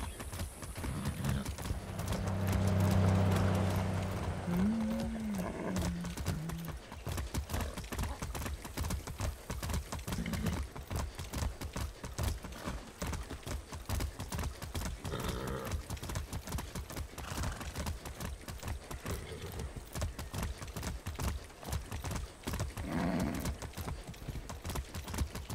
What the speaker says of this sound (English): It's gonna take a while to get here on horse.